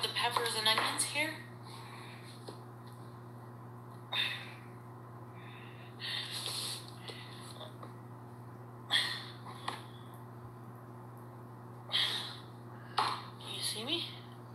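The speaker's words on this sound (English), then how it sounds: "Just gonna cut up the peppers and onions here." Peppers and onions being cut up on a kitchen board: soft, scattered knife taps and clinks in short, irregular clusters over a steady low hum, fairly close.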